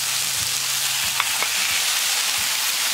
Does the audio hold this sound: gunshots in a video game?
no